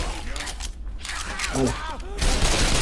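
Gunfire in the zombie shooter Left 4 Dead, a dense burst of rapid shots and loud cracks with mechanical clatter, close and continuous, and a voice briefly over the shooting.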